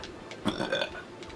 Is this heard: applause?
no